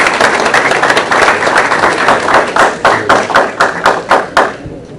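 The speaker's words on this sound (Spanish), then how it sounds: "entonces le damos un aplauso primero para Ana" An audience applauds a speaker named Ana at an agricultural investment presentation, dense clapping filling the room and then thinning into separate, louder claps that fade out near the end.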